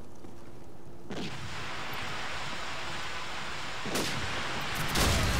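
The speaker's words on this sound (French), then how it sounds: "J'essaye de l'avoir à la grenade" Grenade blasts in Call of Duty 4 with the Efaya Mod on the Mirage map, heard as sharp, loud, nearby explosive bursts over a steady rushing noise, one early and two more close together near the end.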